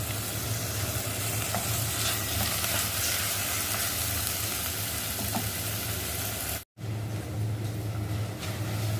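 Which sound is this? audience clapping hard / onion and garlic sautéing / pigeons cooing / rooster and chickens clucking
onion and garlic sautéing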